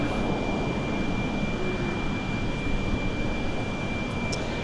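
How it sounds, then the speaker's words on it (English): A Turkish Airlines Boeing 787 Dreamliner at the airport being pushed back, its engines giving a steady, distant broadband rumble and hiss that holds even throughout with a faint high whine. "Turkish Airlines, the Dreamliner now pushing it back"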